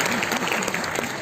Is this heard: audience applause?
yes